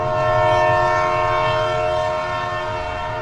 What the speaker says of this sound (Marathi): चला आली एकदाशी ट्रेन,